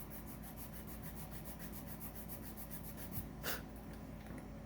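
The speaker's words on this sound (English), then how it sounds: "I need to take some more cork off with my sandpaper" Sandpaper rubbing down the cork on a clarinet tenon, a faint, steady rasping in quick regular back-and-forth strokes, with one louder scrape near the end and no talking.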